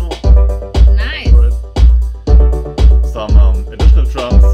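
Piano in a freshly produced music track, struck chords recurring in a steady rhythm about every half second, layered over deep bass pulses, loud and close with no talking.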